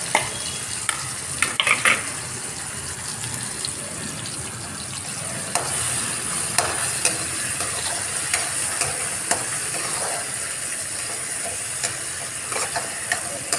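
Tomato and onion sauté in hot oil for a Nagpur-style tomato besan, with a steady close sizzle and scattered scrapes and clicks of a stirring spoon, and no voices.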